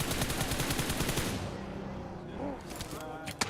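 Rapid automatic gunfire in PUBG Mobile during a tournament match, a dense burst of repeated shots for over a second, then sparser distant pops and one sharp final shot, with a commentator talking over it.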